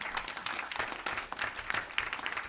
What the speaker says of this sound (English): Why don't we clap for that?